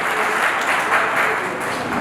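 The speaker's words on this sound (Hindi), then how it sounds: "जोरदार तालियां आपकी बनती रहनी चाहिए।" An audience at a stage award ceremony honouring Covid-era heroes claps loudly and steadily, a dense, sustained burst of applause lasting about two seconds with no voices over it.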